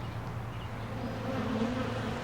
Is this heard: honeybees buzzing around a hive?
yes